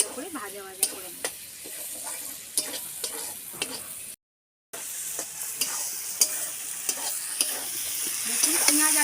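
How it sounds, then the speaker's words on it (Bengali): Onions fry in a pan for a simple chicken curry, sizzling steadily while a spoon scrapes and taps in irregular strokes. The sizzle grows louder toward the end, and one brief gap of silence falls midway. "এবার আমি একটু ভালো করে ভাজা ভাজা করে নেব।"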